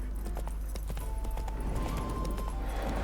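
Roach the horse in The Witcher 3 walks at a steady clip-clop, hooves thudding in a light regular rhythm under low ambient game sound, with no voices.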